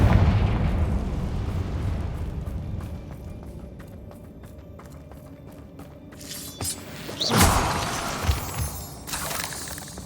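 Spell blasts from Confringo and Bombarda going off in the Hogwarts Legacy game, a couple of sharp bursts and booms with crackling debris over a low rumbling ambience, fairly loud and near, no talking.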